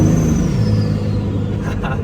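Cummins diesel truck engine running on a dyno, a steady heavy rumble with a falling whine as it downshifts, loud and continuous throughout.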